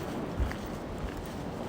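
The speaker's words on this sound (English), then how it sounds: "It's windy." Wind buffets the microphone in a steady, rough rush with a couple of low thumps, no voices, on a cold day in the Caucasus between Tbilisi and Kazbegi.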